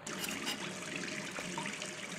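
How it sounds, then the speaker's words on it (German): Water runs from a bathroom sink tap as hands are washed in the video game Gone Home, a steady close trickle and splash throughout. "Nochmal Hände waschen."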